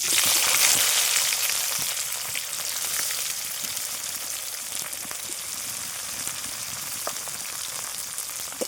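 Chopped onions and cumin seeds sizzling in hot oil in a pan, a steady bright frying hiss with faint crackles, alone and moderately close.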